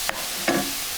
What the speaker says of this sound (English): you just saute this for about 10 minutes until the onion's translucent